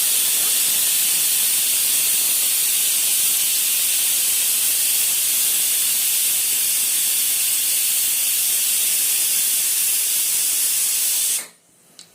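Onions and green chillies sizzle loudly in hot oil for Dalcha, a steady, dense frying hiss that holds for about eleven seconds and then cuts off abruptly, leaving near silence.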